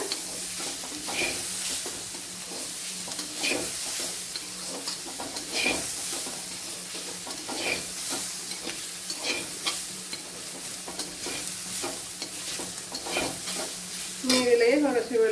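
Spices and chicken masala are stirred as they fry in a pan, a continuous close sizzle and hiss broken by regular scraping strokes of the spoon, steady throughout.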